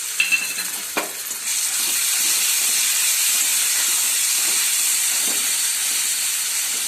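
Grated onion paste frying in a pan while it browns, a loud, steady hiss and sizzle after a couple of brief clatters at the start, no one speaking.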